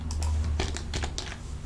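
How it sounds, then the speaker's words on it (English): Computer keyboard keys are pressed in a short, quick burst of clicks, nearby and fairly quiet, as shortcuts are tried on a Linux Mint desktop, with no talk. "let's see if these keyboard shortcuts are working"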